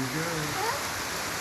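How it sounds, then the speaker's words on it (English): Brief burst of steady outdoor rain, a soft even hiss of falling water at moderate level with a faint tonal trace of a voice or sound underneath. "We're gonna go out there in the rain."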